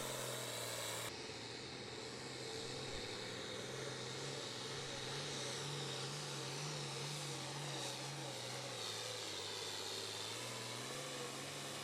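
A pulling tractor roars down the pull track at a truck and tractor pull, a loud, continuous, far-carrying engine drone with a steady low tone, heard alone without talk.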